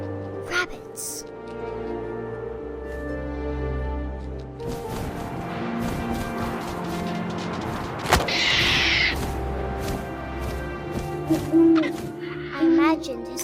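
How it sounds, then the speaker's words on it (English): Owl hoots in the video game What Remains of Edith Finch, deep and repeated over a shifting ambient game soundscape, with a sharp thud partway through and a speaking voice in parts. "And suddenly, I was an owl."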